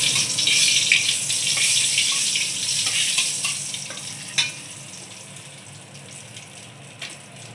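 Bay leaves crackle and sizzle in hot oil in a pan, a steady close hiss with a few brief pops, no voices over it.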